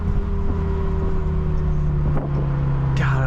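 Mazda RX-7 FC rotary engine heard from inside the car on twisty roads, a steady loud drone that drops in pitch during a downshift, with a sharp crackle of exhaust pops near the end.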